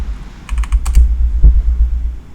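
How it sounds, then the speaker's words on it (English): Keys tapped on a computer keyboard while entering a cheat command for the strategy game Hearts of Iron IV, a quick burst of about half a dozen close clicks followed by a single heavier keystroke, over a low steady hum. "So you just type in research all"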